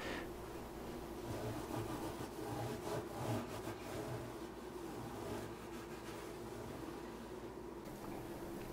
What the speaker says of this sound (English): going up and down the side of each fret here and getting a little bit of the goo off